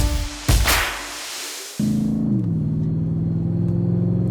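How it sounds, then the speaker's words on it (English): A Power Wheels mini truck build powered by a 2018 Polaris Sportsman 450 HO engine starts with a burst, then settles into a loud, close, steady growling rumble that dips slightly in pitch. "Listen to that Hemi. Oh man, she's really growling now."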